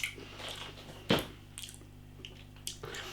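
A single crisp bite into a sausage roll with a crunchy snap, close to the mouth, followed by soft wet chewing and squishy sounds.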